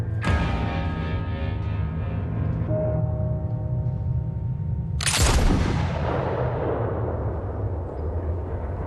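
Gunfire in a crime drama TV episode, a sharp loud burst around the midpoint that decays into a long rumbling tail, set against a steady droning musical score with no talk.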